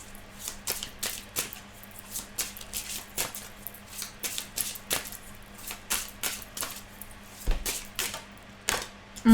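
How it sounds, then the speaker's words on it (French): Oracle cards are drawn and handled from a deck, making a run of quick crisp flicks and taps, some close together, others spaced out, with no one speaking. "on va aussi prendre 3 cartes de l'oracle des miroirs"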